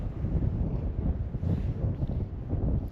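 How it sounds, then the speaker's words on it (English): Strong wind buffeting on the roof of a Jeep on a mountain, a rough, gusting low rumble close to the microphone, with no other sound standing out. "if I just turn around this way, the wind won't blast me"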